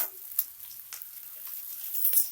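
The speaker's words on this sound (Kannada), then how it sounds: "ಈಗ ಸಿಮ್ಮಿಗೆ ಇಟ್ಕೊಂಡು ಸ್ಟ್ರೈನ್ ಮಾಡ್ಕೊಂಡಿರ್ತೀವಲ್ಲ ಸೇಮಿಯಾನ ಹಾಕ್ಕೊತಾ ಇದ್ದೀನಿ" Strained vermicelli (semiya) goes into a hot pan with a faint, low sizzle, broken by a few quick scraping stirs.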